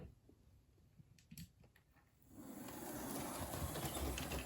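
A model Great Western locomotive runs on its track, faint clicks at first, then a steady mechanical whirr and rolling rattle rising from about midway and holding to the end.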